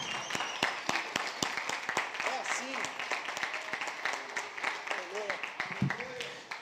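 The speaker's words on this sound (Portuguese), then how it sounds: "Eu gostaria de dar uma salva de palmas ao Senhor." A church congregation claps in praise during a sermon, a run of sharp, fairly even claps with voices calling out over them, moderately distant and continuous throughout.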